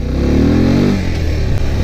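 A higher-displacement motorcycle engine revs loudly and close by on a test ride, climbing in pitch for about a second, then easing back to a steady, lower running note.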